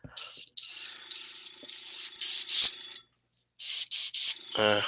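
Short hissing bursts from an airbrush paint sprayer nozzle while a resin miniature is painted, about eight spurts of varying length separated by brief pauses, close and fairly loud, with a faint tonal hum between them.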